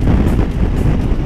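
Strong crosswind on open flat countryside buffets the microphone of a motorcycle on a long road trip, a dense continuous low roar with gusting swells throughout and no voices.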